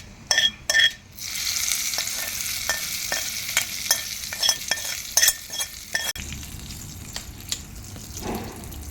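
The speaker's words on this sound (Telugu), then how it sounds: "ఇప్పుడు మనం దీంట్లో ఈ తాలింపు వేసేసుకుందాం" Loud sizzling and crackling of hot oil tempering poured onto raw tomato pickle, with sharp metallic clinks of a spoon stirring in a pan, close up.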